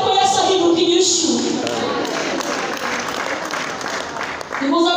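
A church congregation breaks into loud, dense applause that fills the middle seconds, with a voice speaking over the clapping at the start and end.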